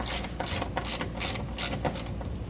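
An Allen key turns to unscrew the window crank of a 1966 Ford Fairlane, producing a close, loud ratcheting of quick, repeated clicks in a regular rhythm, with no voices.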